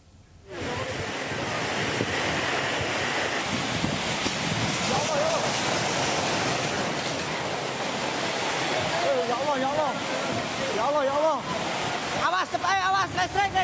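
Strong wind and heavy rain during a storm that toppled a roadside coffee stall in Sidoarjo, East Java: a continuous loud roaring wash of wind and rain, with faint distant voices rising near the end.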